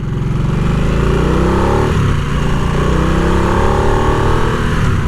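Harley-Davidson Nightster motorcycle engine accelerating hard, a loud, close, steady rising roar with rich low harmonics that climbs in pitch throughout, with no voices over it.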